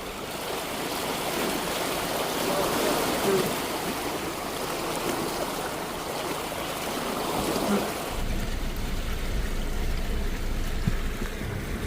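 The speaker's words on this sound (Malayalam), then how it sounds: "അത്യാവശ്യം നല്ല ഒഴുക്കുണ്ട് കേട്ടോ വെള്ളത്തിന്" Fast-flowing stream water rushing steadily during a 4WD vehicle crossing on the Old Telegraph Track to Cape York, a constant close roar whose tone shifts partway through.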